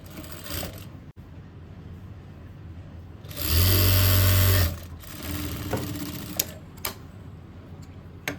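Sewing machine stitching a seam on a suit, a quiet room then a loud, fast mechanical whirr for about a second and a half, followed by a few soft clicks and taps from handling the fabric.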